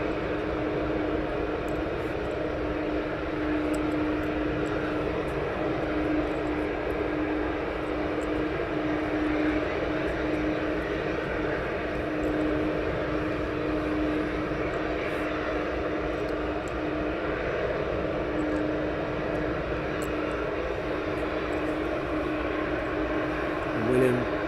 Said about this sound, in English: That's the aircraft getting ready for departure.